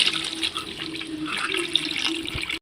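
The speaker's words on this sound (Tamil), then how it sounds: "இப்போ நம்ம இந்த புளி தண்ணியை இந்த மசாலாவை நம்ம சேர்த்துக்கலாம்." Tamarind water is poured into a fish curry masala for koduva fish kulambu, a continuous close splashing trickle that lasts a couple of seconds before stopping abruptly.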